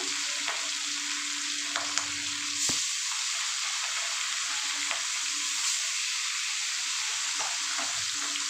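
Katla fish sizzles and fries steadily in hot mustard oil, a continuous close crackle with a few brief clinks and stirring taps throughout, no voices.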